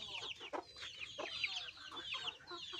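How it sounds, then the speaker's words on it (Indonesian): A flock of village chickens clucks busily in a dense, continuous chorus of overlapping calls, fairly close, with no voices. "Ayamnya banyak banget."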